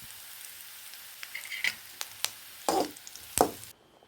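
Curry leaves and shallots crackling and spitting in hot oil for a Kerala-style fish curry, with sharp pops and short bursts of sizzle over a quiet background before stopping abruptly.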